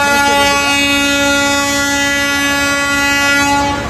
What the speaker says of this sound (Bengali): এই যে হরেন দিছে এখনও কিন্তু ছেড়ে দিবে